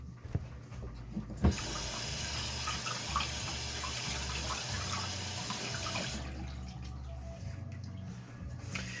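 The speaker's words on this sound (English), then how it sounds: "Let me wash my hands." Hands being washed under a running kitchen tap, a steady loud rush of water that starts abruptly and stops after several seconds, with faint handling sounds before and after.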